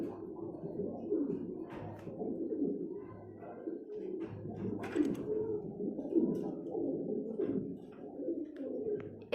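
Domestic pigeons, including a Danish breed, coo continuously in a soft, low, overlapping murmur that fills the whole stretch, with a few faint higher chirps mixed in.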